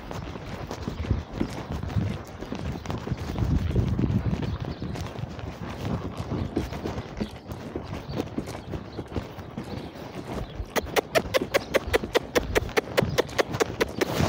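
A ridden horse's hooves clop on the ground, uneven at first and then settling into a fast, regular beat toward the end, with someone talking faintly at times.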